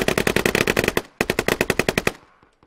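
Automatic gunfire in the video game Squad, from a league match on a hilltop: two loud, rapid bursts of closely spaced shots, a brief gap between them, then a tail of fading, scattered distant reports.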